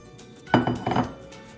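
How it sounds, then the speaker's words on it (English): Utensils clink against a mixing bowl as lumpia filling ingredients are combined, a few close, bright knocks and scrapes in quick succession over a quiet background. "What we're gonna do is just have a bowl"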